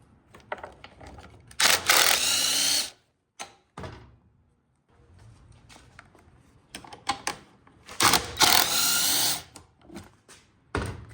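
Power tool whirring in two bursts of about a second each, loosening 10mm bolts on the gas tank of a Honda XR100R, with clunks and handling knocks between the bursts and no talk.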